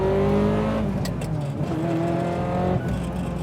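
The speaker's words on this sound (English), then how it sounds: "this is the gated manual shifter" A Ferrari F355 engine revs close by as a gear change is made through its gated manual shifter. The engine note climbs, dips sharply at each shift, then climbs again, loud and without talk.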